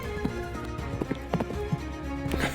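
Horse hooves clip-clop in the video game Tales of Glory, a quiet uneven series of sharp knocks over a faint background hum, coming in irregular clusters as the horse moves.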